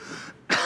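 Someone coughs and clears their throat loudly in a courtroom, a single harsh burst after a quieter stretch of room noise.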